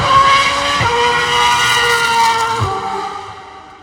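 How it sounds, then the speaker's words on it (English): Ferrari Formula 1 cars race up the Goodwood Festival of Speed hill climb, with loud, close, high-pitched engine wails that drop sharply at each gear change and then climb again before fading. "several Ferrari F1 cars racing their way up the hill climb"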